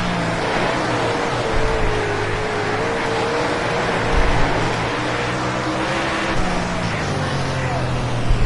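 A dirt-track race car engine in the World of Outlaws racing game roars steadily from onboard, its pitch drifting slightly as it holds speed and swells with occasional throttle surges, loud and continuous throughout.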